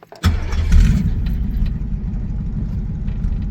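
A Ford Mustang's starter catches, and the engine bursts into a loud, close roar, then settles into a rough, rumbling idle that runs unbroken to the end.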